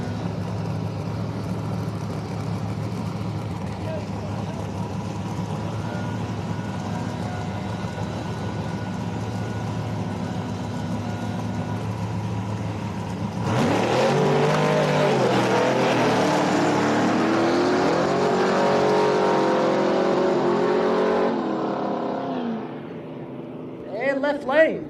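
Drag race on the first round at Virginia Motorsports Park: an S10 pickup truck in the left lane and a Nova in the right idle steadily, then roar off the line together in a loud sustained blast that fades at the end, with an announcer talking over it.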